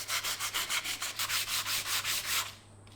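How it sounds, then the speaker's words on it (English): White-painted carved wood sanded back by hand, a close rhythmic scratchy rub of about a dozen even back-and-forth strokes that stops near the end. "when I sand it back, it should leave the white paint only in the grooves"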